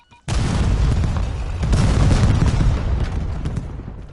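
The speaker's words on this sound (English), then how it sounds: "Lobbing cluster grenade." A cluster grenade goes off in Call of Duty: a sudden loud boom, then a dense, rumbling run of overlapping blasts that goes on for about four seconds before it starts to fade.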